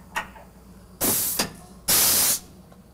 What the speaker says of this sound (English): So what I'm going to do is just put it in the spindle.